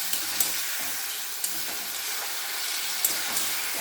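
A spice paste for fish curry sizzles in oil in a pan after a little water is added, giving a steady hissing fry with a few small pops and stirring clicks.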